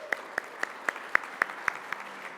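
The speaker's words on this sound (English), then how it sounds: "Let's give a round of applause." Slow, evenly spaced hand claps ring out at an awards ceremony, about eight sharp single claps in steady rhythm, fairly close, with no talking.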